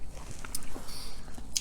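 A short, close burst of chewing on keto coconut-filled dark chocolate, with soft crunching mouth sounds and no voice.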